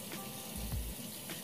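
Running tap water while a face is rinsed, a quiet steady hiss with soft splashes and one low dull thump in the middle, close and faint.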